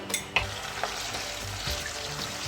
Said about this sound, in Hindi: नमक के साथ हमने इसको फ्राई करना है